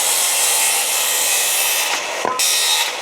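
Makita 5007F circular saw fitted with a thin Diablo blade cutting through material, a steady loud whining rasp that runs continuously, then briefly drops out near the end before resuming.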